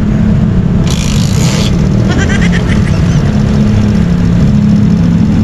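A motorcycle engine running steadily during a sound test for a long-distance ride, a loud continuous low rumble held throughout with a brief higher hiss near the start.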